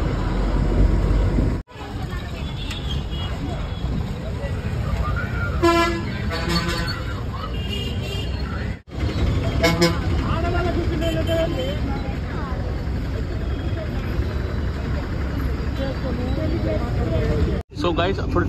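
A bus rumbles along the road from Srisailam to Tirupati in the evening, a steady low engine drone with bursts of horn toots, while someone talks over it throughout.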